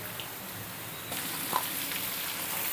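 Carrot pieces drop into hot oil already holding garlic and dried red chillies, and a steady, soft sizzle swells a little brighter once they land, with faint stirring.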